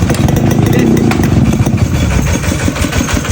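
A motorcycle engine running loud and close after a plug is fitted, a steady, rough mid-pitched idle drone with slight throttle wobble throughout.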